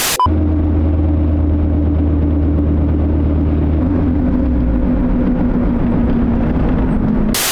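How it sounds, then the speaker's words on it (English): Cupra car with a rotational grinding fault, heard from inside as a loud, steady droning rumble with a low humming whine that shifts pitch midway, continuous throughout. "So basically we got a bit of a rotational grinding noise."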